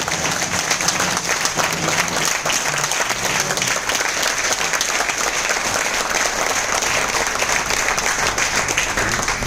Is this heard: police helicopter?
no